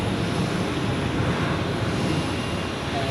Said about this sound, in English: And the 777 which just taxied out is going to Chicago.